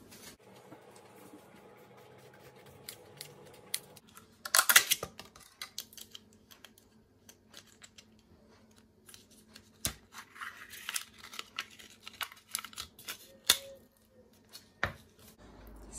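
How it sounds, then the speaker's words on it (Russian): Quiet snips and crinkly cutting sounds come in irregular bursts, with scissor blades working through soft lavash flatbread amid faint background hum. "Лаваш я обычно режу ножницами."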